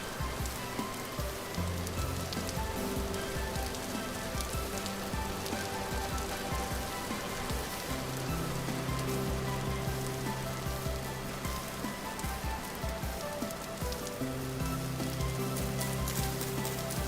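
Steady rain in the video game Vintage Story patters and hisses across the whole stretch, a dense, even wash of drops with low musical tones running underneath.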